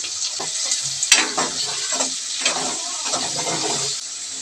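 Onions and green chillies sizzle and fry in hot oil in a pan for a prawn curry, a loud, steady crackling hiss with a sharp clatter near the start and no talk.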